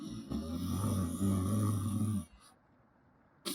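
Loud, rumbling snoring from a character in the video game Cooking Companions, a steady drone for about two seconds and then a sudden cut to near silence.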